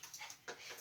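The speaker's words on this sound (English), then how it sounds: "Don't you bark at me." A dog gives a few short, quiet yips and whimpers, faint and fairly distant, in a brief, soft burst with no clear speech.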